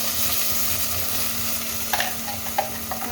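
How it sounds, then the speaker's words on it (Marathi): Onion paste hisses and crackles in hot oil for pav bhaji, a steady close sizzle with a few sharper pops near the end and no voices. "आता गरम गरम तेलामध्ये पहा टाकायचं आहे आपल्याला कांद्याची पेस्ट"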